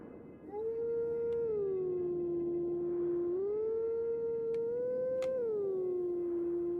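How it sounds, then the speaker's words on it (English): The Howling Stone song in the Zelda game Twilight Princess: a long, wavering wolf-like howl that rises and falls in pitch over a faint backdrop, with a few brief chime-like pings partway through. "Here is the final Howling Stone."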